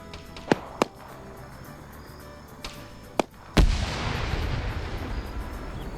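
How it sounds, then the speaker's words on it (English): Grenades exploding during a PvP match in a military video game: several sharp isolated cracks, then one heavy close blast followed by a lingering rumble. "Grenades going out."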